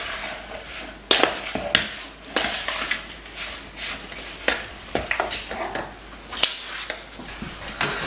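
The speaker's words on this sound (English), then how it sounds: "I'm just going to kind of stir this up." Metal spoon scraping and clinking around a pot on the stove, a run of irregular sharp taps and scrapes over a faint background sizzle, close and fairly quiet with no talking.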